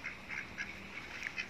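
A duck quacks several times in short, fairly faint calls spaced across a brief moment outdoors.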